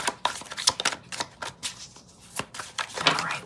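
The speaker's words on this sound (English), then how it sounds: "I shuffle till one card falls out." Tarot cards being shuffled by hand in a series of quick, crisp riffling bursts and soft slaps, close and moderately loud, with no one talking.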